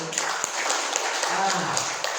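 An audience at a health talk claps briefly on request, a steady patter of applause over the whole short stretch, fairly close, with voices audible beneath it.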